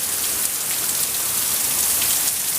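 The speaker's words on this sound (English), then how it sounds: "there's all the rain coming off the roof" Hurricane Zeta rain pours off a house roof on the Gulf Coast, a loud, dense, continuous hiss of heavy water with no break.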